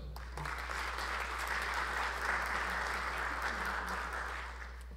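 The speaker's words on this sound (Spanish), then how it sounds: "un fuerte voto de aplausos" An audience at an international scientific seminar on quinoa applauds in a sustained, even wash of clapping, fairly soft and heard alone over a low steady hum.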